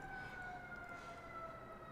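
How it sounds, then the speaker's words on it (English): Siren heard faintly from outside, with two steady wailing tones held over a soft background hiss and no talk. "I'm gonna hear the siren there."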